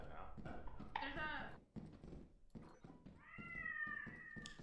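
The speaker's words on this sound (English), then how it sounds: "There's a scary cat sound that's..." A cat meows in the video game Lethal Company, two drawn-out rising yowls separated by a pause, loud and close, while game thumps and shuffling sit beneath them.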